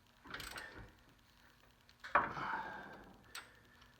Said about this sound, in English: you're going to torque them down